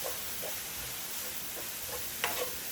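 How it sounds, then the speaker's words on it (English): Kimchi and mushroom filling with garlic salt sweating in a pan, a steady hissing sizzle with soft stirring sounds and a brief sharper scrape. "we're just gonna be sweating this until the moisture comes out"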